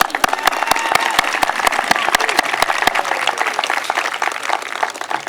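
A commencement ceremony audience claps steadily for several seconds, a dense burst of applause that continues without pause.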